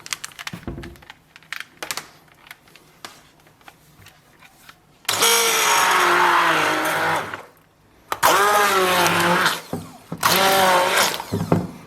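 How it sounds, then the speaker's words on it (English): After a stretch of clicking and tapping, an immersion blender whirs loudly in three long runs, its pitch wavering as it works through strawberries for a sauce. "Then we'll use an immersion blender"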